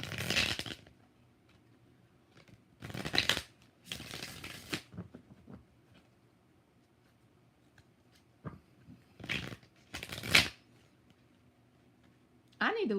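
Tarot cards shuffled by hand in several separate close bursts of riffling and flicking, spaced irregularly across the stretch with quiet gaps between, while a voice talks at times.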